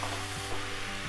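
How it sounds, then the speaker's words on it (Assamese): Jackfruit and meat frying in hot oil give a soft, continuous sizzle with faint stirring scrapes, heard up close and fairly quiet. "ইয়াত মই সিজাই লোৱা কঁঠালৰ মুচি আৰু মাংসখিনি দি দিছোঁ এইখিনিও আমি ভাজি ল'ব লাগিব"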